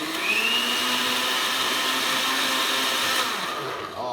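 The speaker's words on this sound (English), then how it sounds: "I'm gonna blend this baby up to start with." A blender whirs steadily at close range while blending protein snack ingredients, a continuous motor drone that holds its pitch for about four seconds before winding down slightly at the end, with no voices.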